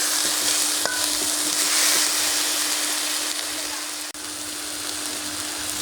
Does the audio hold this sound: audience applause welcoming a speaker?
no